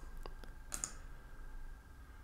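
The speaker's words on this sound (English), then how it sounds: "So I'm going to click on all available transactions and then click on OK." Sharp mouse clicks while working in Xero accounting software, a few isolated taps followed by a close double click, crisp and fairly quiet with no talking.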